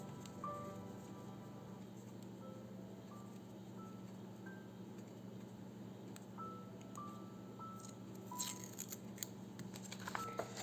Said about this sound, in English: I'm just going to cut along the edge